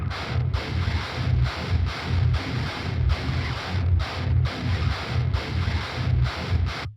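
Guitar playing through the drive stage of the thall amp plugin, a multi-stage distortion amp simulator, giving a dense, saturated chug in a steady rhythmic pattern of short palm-muted bursts, loud and continuous with no talking.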